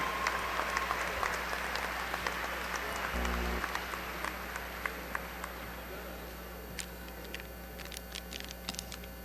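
A large audience applauds graduates at Angelo State University's spring commencement ceremony, with dense, steady clapping filling the hall from start to finish at an even, sustained level.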